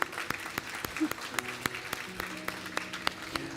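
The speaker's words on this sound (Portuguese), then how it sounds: "Aplauda ao Senhor por isso." A church congregation claps, scattered sharp hand claps at an uneven pace with a few voices calling out underneath, fairly faint and somewhat distant.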